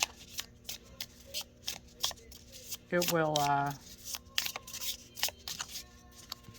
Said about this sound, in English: if you shuffle, like I'm going to shuffle like this right now